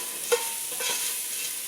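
Fideo noodles and chopped onion browning in a pan for fideo con carne, a steady faint sizzle with a few soft stirring scrapes, no talking.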